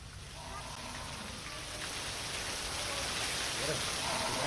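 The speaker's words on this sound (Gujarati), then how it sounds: "કચ્છના લખપતમાં અસહ્ય ઉકળાટ બાદ પડ્યો છે વરસાદ" Steady monsoon rain falling in Lakhpat, Kutch, a broad continuous hiss that grows slightly louder over the few seconds, with no other sounds standing out.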